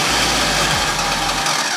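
A car engine cranks over with its fuel pump unplugged, a loud, steady rhythmic churning from the starter that does not catch, continuing without pause and without speech.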